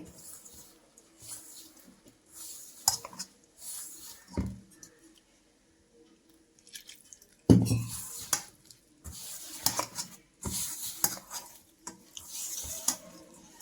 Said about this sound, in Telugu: ఇప్పుడు దీంట్లో మనం వాటర్ పోసుకుంటూ మన చపాతీ పిండిలా కలుపుకోవాలండి